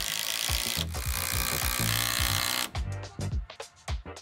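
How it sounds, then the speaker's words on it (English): An impact driver sinks lag screws into a wooden post and girder, a steady buzzing whir giving way to bursts of sharp rapid hammering, close and loud. "then I could finally drive in the lag screws with an impact driver"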